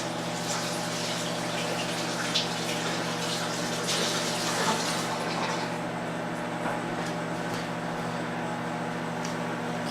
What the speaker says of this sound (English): Now I'm going to wash my hands again to try to prevent cross-contamination.